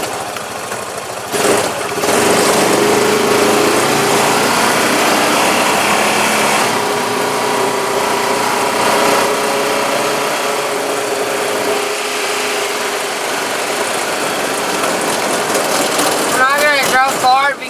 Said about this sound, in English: on the four-wheeler, driving around the neighborhood